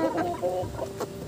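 Heritage chickens on a farm cluck in short, soft bursts close by, several low calls overlapping over a little more than a second.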